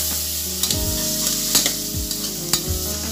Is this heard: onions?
yes